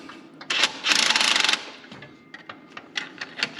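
Short bursts of a small impact wrench tightening an alternator bolt on a Ford Ranger 2.3L, one sustained rattling run followed by several brief clicking taps, close up in a quiet garage.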